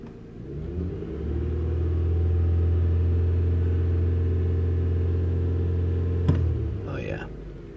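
A car engine idles with a steady low rumble for several seconds, close by, then a brief click and rustle as it fades.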